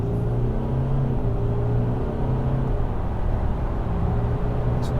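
A VW Amarok 3.0 TDI pickup running on a dyno in drive, its engine droning loud and steady with a deep rumble as it pulls up through the gears, the pitch dipping briefly at each quick shift.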